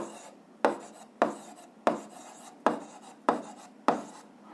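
A pen writes by hand on paper in a quiet room, with six evenly spaced sharp taps each followed by a short scratchy stroke, close and alone.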